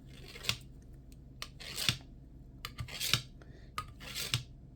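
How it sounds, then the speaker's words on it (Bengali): A knife cuts set agar jelly into pieces with close, crisp slicing strokes, roughly one every second, against a quiet kitchen background. "আমি এখন জেলোটা কেটে নেব।"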